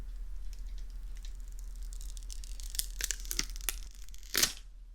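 Plastic film is peeled off the lid of an Espoir cushion compact, giving close, quiet crinkling and tearing that builds in a few quick pulls and ends in one sharp rip, with no talking.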